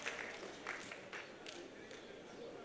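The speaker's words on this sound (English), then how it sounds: "Let us give a round of applause for the presenter." Audience applause at an education and leadership congress, heard as faint, distant, scattered clapping that runs steadily through the short stretch in a large hall.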